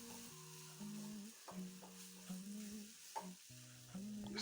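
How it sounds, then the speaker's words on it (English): Pork frying in a pan for wet fried pork is stirred several times, a soft sizzle underneath irregular scraping and clinking strokes of the spoon, close but fairly quiet, with no talking. "So let us give it a stir"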